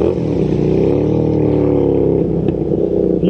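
A custom late-1970s or early-1980s Beagle Interceptor motorcycle idles loud and close, its engine churning in a steady throbbing drone with a slight rise and dip in pitch and no talking.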